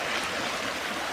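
The Sosian river flows in a steady, broadband rush of water, close and even throughout the short stretch, with no voices over it.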